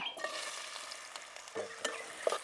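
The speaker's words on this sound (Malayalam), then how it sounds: "ഇനി ഇതിലേക്ക് നമുക്ക് ഈ നെയ്യിൽ തന്നെ കുറച്ച് നേന്ത്രപ്പഴം അരിഞ്ഞത് ഇട്ട് കൊടുക്കാം" Chopped plantain fries in ghee with a continuous close sizzle, with light stirring scrapes and small clinks over it, and no voices.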